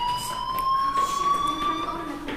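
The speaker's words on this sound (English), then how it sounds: "do you hear that fire alarm? That means you should be outside." A fire alarm rings with a steady, piercing electronic tone that holds at a constant pitch the whole time, loud and close, with faint background noise beneath.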